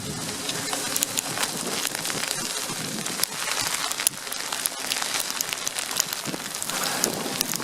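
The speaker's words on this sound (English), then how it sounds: "There's a bit of sleet, a bit of hail, a bit of snow" Blustery wind buffets the microphone in a cold landscape as sleet, hail and snow patter down, a dense, steady rushing texture with scattered sharp ticks of icy pellets throughout.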